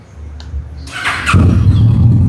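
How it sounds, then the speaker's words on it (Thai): A 2015 Kawasaki ER6N ABS fitted with a genuine full Akrapovic exhaust starts up with a short crank, then settles into a loud, steady, throaty idle rumble close by. "รถสตาร์ทติดง่ายนะผมอันนี้รอบเดินเบานะครับ"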